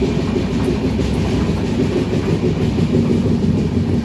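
Malda Town to Howrah Intercity Express rolling along at speed, a steady loud rumble with rhythmic clickety-clack of wheels over rail joints, heard from on board and continuous throughout.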